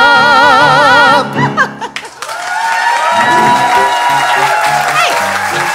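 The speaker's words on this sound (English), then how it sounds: "Hey, they're applauding." A theatre audience at the musical Anything Goes breaks into loud applause and cheering as a sung number ends, the crowd's roar swelling and holding steady while tonal music lingers underneath.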